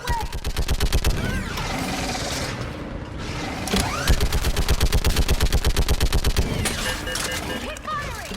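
Rapid automatic gunfire rattles through a firefight in the video game Mass Effect, with loud, continuous bursts of shots and short mechanical clatters, close and dense throughout.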